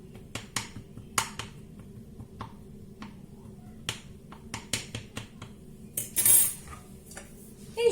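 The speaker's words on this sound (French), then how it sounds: "Je vais piquer le fond de ma tarte, juste le fond, pas les côtés." A fork pricks the bottom of an apple tart crust in a quick series of sharp, light taps, some doubled, ending in a brief brushing rustle.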